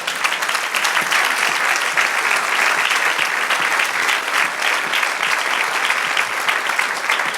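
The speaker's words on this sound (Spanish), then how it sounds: "Dar un aplauso al Señor." A church congregation applauds after a sermon, sustained loud clapping from many hands filling the room evenly for several seconds without talk.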